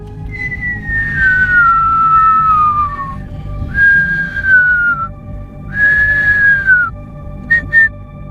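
A person whistles a slow, descending tune in three long phrases, then two short chirps, clear and close over low background rumble.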